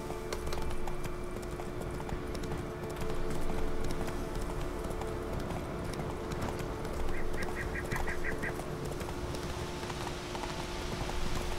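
Hooves clop rapidly and steadily as the horse Roach gallops in The Witcher 3 video game, a continuous rhythmic patter under faint ambient game sound.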